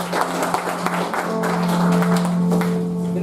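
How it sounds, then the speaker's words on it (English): A seated audience at a panel meeting applauds to welcome a panel member, steady moderately loud clapping throughout with a low hum underneath. "A big round of applause."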